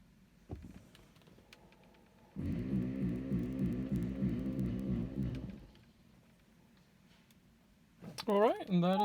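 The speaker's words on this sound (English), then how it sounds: "Then you hear the ABS pump running." On a BMW M5 during brake bleeding, the ABS pump buzzes in a pulsing, throbbing hum for about three seconds and then stops, with quiet talk around it.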